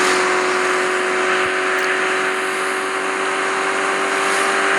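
A BMW engine in a racing video game drones in a steady, loud, continuous hum, holding a constant tone with no talk over it.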